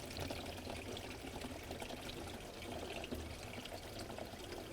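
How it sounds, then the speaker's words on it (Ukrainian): Water runs from a household kitchen tap in a steady, close, continuous splashing stream, even in level and alone without any voices. "Зараз ми подивимося, яка в нас біжить вода в крані."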